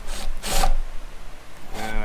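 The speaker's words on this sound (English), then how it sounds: "I'm gonna drill a hole through here, big enough to thread my cord through." A drill bores a hole through a wooden cabinet in a camper van, sounding as two short, harsh grinding bursts with a motor whine, the second ending as the bit breaks through.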